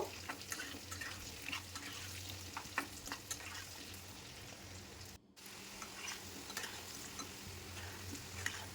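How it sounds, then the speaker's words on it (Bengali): Sweet pumpkin pieces fry over medium heat in a pan for a pumpkin and masoor dal dish, a soft continuous sizzle with repeated stirring scrapes, fairly quiet, with one brief dropout. "মিডিয়াম হিটে এইভাবে নাড়াচাড়া করে এখানে কুমড়ো ভেজে নেব"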